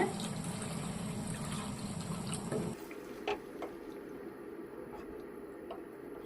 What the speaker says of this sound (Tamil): நான் வந்து 1 டம்ளர் அளவுக்கு தண்ணி சேர்க்க போறேன்